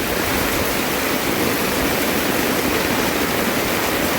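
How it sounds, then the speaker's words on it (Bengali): Heavy rain pours down steadily and loudly over a house with a newly cast kitchen roof, a dense unbroken roar filling the whole moment with no voices. "অনেক বৃষ্টি নেমে গেল, কাজ টাজ সব বন্ধ।"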